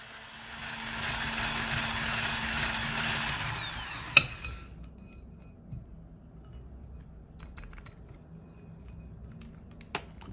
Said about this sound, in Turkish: mikser yardımıyla yumurta ve şekerimizi güzelce çırpalım